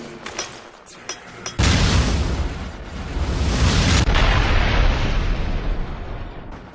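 A pulse grenade detonates in Resident Evil: Revelations, opening with a few light taps before a sudden loud, sustained burst that roars on for several seconds and then eases into a lower rumbling tail.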